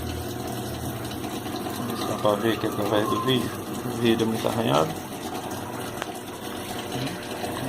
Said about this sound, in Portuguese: E ouvir, né, o barulho também da água entrando